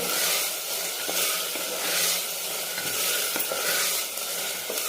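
Steady sizzle of food being sautéed in ghee, with a spoon stirring through the pan in occasional scrapes, for a mutton liver (kaleji) fry; continuous and close, no talking.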